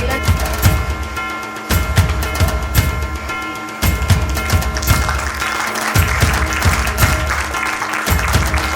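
An audience claps at a Labor Day celebration for workers, a dense sustained applause heard over rhythmic music with regular low thumps, loud and close throughout.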